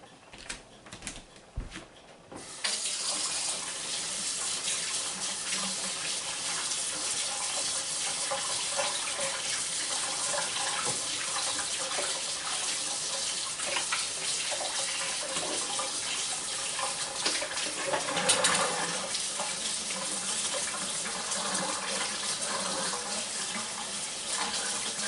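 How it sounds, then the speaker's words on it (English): A tap runs steadily into a sink while hands are washed during sourdough making, a continuous close rush of water after a few seconds of clatter at the start, with no talking. "I'm going to wash my hands just to get them dirty again"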